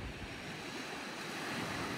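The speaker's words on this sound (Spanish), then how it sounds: "Qué lindo poder disfrutar del mar cuando está mucho más solo, salvaje, natural" Sea waves wash onto a Tuscan beach in a soft, continuous roar, with faint wind noise over the microphone and no voices.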